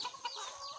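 Loose hens wandering free around a yard cluck softly in a short, faint burst of overlapping calls.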